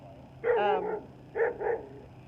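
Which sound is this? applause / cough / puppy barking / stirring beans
puppy barking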